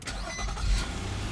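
A 2016 Nissan Murano SL's 3.5-liter V6 starting by push button, a short cranking burst catching into a steady close rumble, with no talking.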